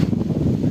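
Wind gusts buffet the microphone and rustle the bean plant branches in a rooftop vegetable garden, a steady close rumble with no voices.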